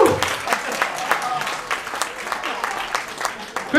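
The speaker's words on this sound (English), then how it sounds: "Give him a big round of applause." Applause from an audience at a wedding-event mind-reading show, steady clapping with a shout near the start, under the performer's voice speaking over it.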